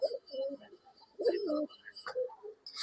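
Pigeons kept for breeding coo softly and close by, a few low rolling calls alongside faint chirps in a quiet space.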